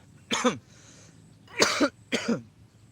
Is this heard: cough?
yes